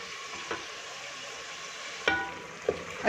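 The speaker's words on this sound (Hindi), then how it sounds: "अच्छी तरह गोश्त को भून लिया" Beef for haleem fries in a pot with a steady close-up sizzle, broken by a few soft scraping stirs and light clinks of a utensil, with no voices.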